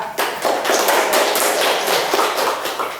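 Applause from a classroom of students, a dense burst of many hands clapping that starts abruptly and continues steadily for about three seconds before tapering slightly, with no voices over it.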